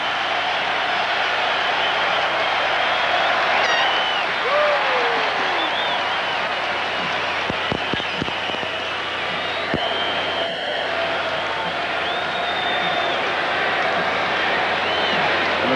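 Baseball stadium crowd at the 1991 World Series, Twins at Braves in Atlanta, a constant roar of cheering and applause filling the whole span, with a broadcaster's voice faintly under the noise.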